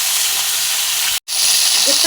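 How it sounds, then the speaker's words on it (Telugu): Stuffed brinjals (gutti vankaya) fry in hot oil for a curry, a loud continuous sizzle cut by a brief silence midway, then resuming with faint pops and clinks. "గుత్తొంకాయలు బాగా ఫ్రై చేసుకోవాలండి."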